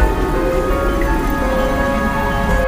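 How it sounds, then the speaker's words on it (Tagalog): Heavy rain falling as a sound effect in a Filipino horror storytelling piece, a dense continuous hiss and patter of downpour, loud and steady throughout with no voices over it. "Biglang sumulpot ang malakas na ulan."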